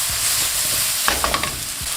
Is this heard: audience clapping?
no